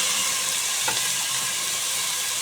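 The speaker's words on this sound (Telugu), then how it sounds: "మంచి పచ్చి వాసన వెళ్ళే వరకు దీన్ని వేయించుకోవాలి నెయ్యిలో." Grated carrot frying in ghee, a steady loud sizzle that holds evenly throughout, with one brief stir partway.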